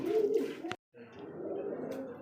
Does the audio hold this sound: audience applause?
no